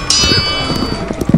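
Horses gallop into battle with a rush of hoofbeats under a bright ringing tone, loud and dense, like a staged battle soundscape for a story of the Battle of Dewair.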